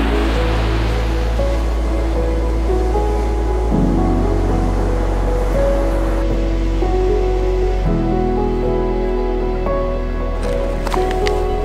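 Ocean surf washing onto a rocky beach on the Olympic National Park coast near the Hole in the Wall, a steady loud roar of broadband wash that swells and shifts with incoming waves, with no voices heard.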